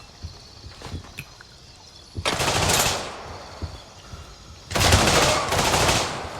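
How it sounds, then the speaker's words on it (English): Gunfire in the video game Gray Zone Warfare, rounds shot through wood: two loud sustained bursts of automatic fire, separated by quieter stretches with faint scattered shots and movement. "They are just shooting me through the wood."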